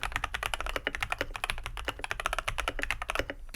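Steady, rapid mechanical keyboard typing on a modded IQUNIX L80 Cosmic Traveler, with dense crisp keystrokes clacking close and alone at a fast, continuous rhythm.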